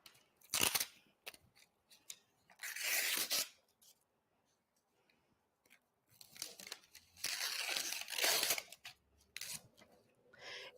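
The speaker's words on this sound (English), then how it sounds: "I'm just cutting through the paper so I can expose that sticky" Scissors snipping through the paper backing of sticky embroidery stabilizer, with close, crisp bursts of cutting and crinkling separated by short quiet gaps.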